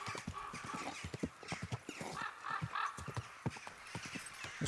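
Quick, close clip-clop of horse hooves in Kingdom Come: Deliverance 2, a steady trotting rhythm, with a horse whinnying partway through.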